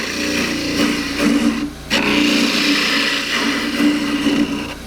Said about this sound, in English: I'll just get the inside roughed out. This is a 3/8 bowl gouge.